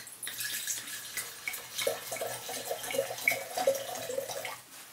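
Red South African Shiraz, Cloof "The Very Sexy" 2020, poured into a glass: a soft, close trickle and gurgle of liquid lasting a few seconds, fairly quiet and alone.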